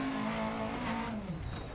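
Rally car skidding through a hairpin in Dirt Rally 2.0, its engine note falling while the tyres scrub and slide on loose ground in a short, continuous burst.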